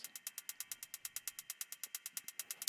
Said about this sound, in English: And also I sampled the hissing fire in that stove